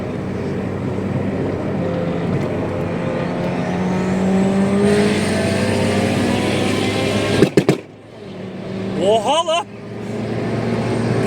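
Turbocharged Honda Civic engine droning steadily, climbing in pitch as revs build, then cutting off abruptly with a couple of sharp exhaust pops before revving again; close and loud, with voices and laughter over it.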